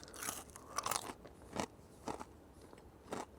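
Crunchy homemade snacks bitten and chewed up close inside a van, several sharp crackling crunches spaced out over a few seconds with quiet pauses between bites.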